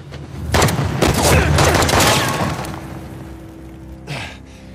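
A loud burst of rapid gunfire with booming shots in Uncharted: The Lost Legacy on PS4 fills the first few seconds, then fades, followed by another shot near the end.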